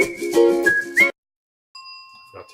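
A single small bell dings with a bright tone, followed by a short silence and then a fainter sustained ringing tone near the end.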